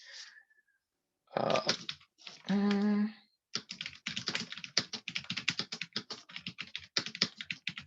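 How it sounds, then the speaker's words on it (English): Rapid keystrokes on a computer keyboard rattle out in a dense, uneven run of crisp close clicks after a few brief louder knocks and a short vocal sound at the start. "I should be able to type it in here relatively quickly"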